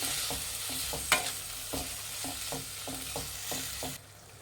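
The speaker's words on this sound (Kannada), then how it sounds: "ಒಂದು ಮೂರು ಟೊಮೆಟೊ ಹಾಕ್ಕೊತಾ ಇದ್ದೀನಿ ಸಣ್ಣದಾಗ ಹಚ್ಬಿಟ್ಟು ಇದು ಫ್ರೈ ಮಾಡಿ ಮೆಚ್ಚದಾಗೋವರೆಗೂ" Finely chopped tomatoes frying with onions for tomato gojju, a continuous hiss under regular spoon strokes against the pan about twice a second, ending abruptly as the sizzle drops away.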